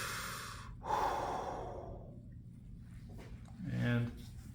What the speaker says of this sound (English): Can I get you a deep breath?